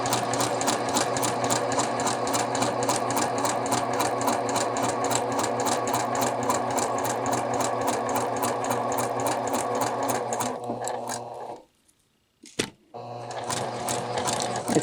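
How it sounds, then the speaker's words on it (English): A sewing machine runs at a steady, rapid stitching rhythm while sewing a double welt pocket, guided along the presser foot edge, then stops briefly near the end before starting again; loud and close, with no talking. "I'm using the edge of my presser foot as a guide to keep my stitches straight"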